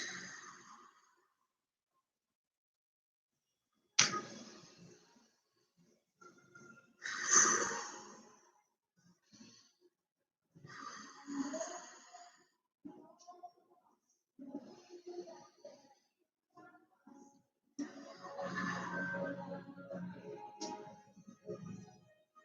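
Slow, deep breaths, in through the nose and out through the mouth, during a seated chair workout: a series of breathy exhales and sighs separated by short quiet gaps, close and fairly soft, with some faint vocal sounds between breaths.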